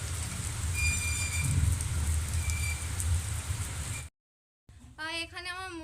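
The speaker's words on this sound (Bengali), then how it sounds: "খুব বৃষ্টি হচ্ছে, এখানে খুব বৃষ্টি হচ্ছে।" Heavy rain pours down in a steady, dense hiss for about four seconds, then cuts off briefly before a voice is heard.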